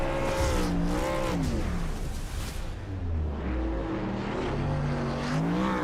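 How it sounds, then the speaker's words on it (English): A race truck in the iRacing video game does celebratory burnouts at Homestead Miami, a loud, sustained engine roar with rising and falling revs and tire squeal running throughout. "here he's going to come down the road here, Joey, and do his burnouts and celebrate as he should"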